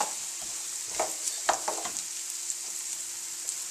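Red onion and garlic frying over very low heat in a pan, a soft steady sizzle broken by a few close scraping stirs, quiet and without any voices.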